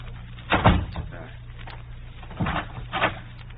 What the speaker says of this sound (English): I will close the door.